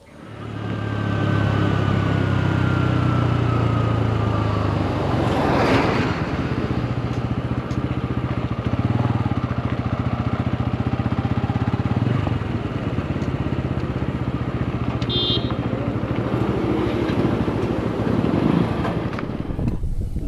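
Bajaj Pulsar N160 motorcycle cruising on a highway, its steady engine drone and road rumble loud and continuous with heavy wind buffeting, alone without speech.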